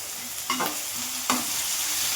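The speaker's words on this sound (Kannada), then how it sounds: "ಈರುಳ್ಳಿ ಫುಲ್ಲು ಗೋಲ್ಡನ್ ಬ್ರೌನ್ ಕಲರ್ ಹಾಕಬೇಕು ಅಲ್ಲಿವರೆಗೂ ಇದನ್ನು ಫ್ರೈ ಮಾಡ್ಕೊಳ್ಳೋಣ" Onions and curry leaves frying in a pan until golden brown, a steady close sizzle broken by a couple of brief stirring scrapes.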